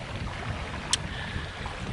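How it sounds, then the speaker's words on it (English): Wind buffets a small camera microphone outdoors near Ishpatina Ridge in Ontario, Canada, making a steady, loud rumbling roar with one brief sharp tick partway through. "And it's actually pretty nice, a little windy."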